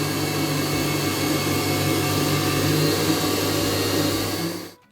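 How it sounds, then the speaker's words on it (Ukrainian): An electric mixer whips butter for icing in a home kitchen, its steady motor whir droning loudly and close for several seconds before cutting off abruptly at the end, with no talking. "буду збивати, поки масло не загустіє"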